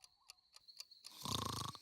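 A person snores in a cartoon short, the wheezing breath of each snore rising to a loud rasping snort, with a few sharp clicks heard earlier.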